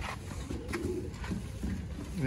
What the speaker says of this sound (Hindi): बड़ा अच्छा कबूतर है